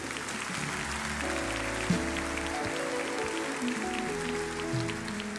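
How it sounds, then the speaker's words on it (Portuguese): Applause from a church congregation after a sermon, a steady dense wash of clapping that holds for several seconds without voices on top. "Pode aplaudir de novo."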